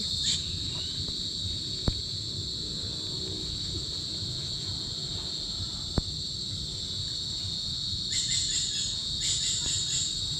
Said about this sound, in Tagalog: marami na pong naririnig kayong kuliglig dahil nga po ngayon ay paggabi na